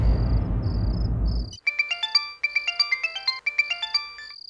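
A mobile phone ringtone plays clearly and loudly, in a repeating melodic electronic pattern. It follows a brief burst of broad noise at the start.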